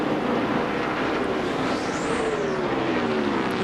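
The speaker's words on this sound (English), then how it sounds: "I think it's Kyle Petty's 45 car that's sounding ugly." Kyle Petty's No. 45 NASCAR stock car runs rough at Darlington Raceway during the 2003 Southern 500, its engine drone heard at a distance among other race cars, with one pass rising and falling across the track.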